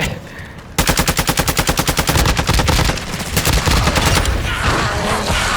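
Rapid automatic gunfire in Call of Duty Warzone 2 during a boss fight against The Butcher in Al Mazrah, a loud close burst of evenly spaced shots running for several seconds, then continued heavy firing and bangs with no talk.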